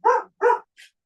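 A dog barks twice in quick succession, fairly close and loud, followed by a softer, shorter yip, with no speech over it.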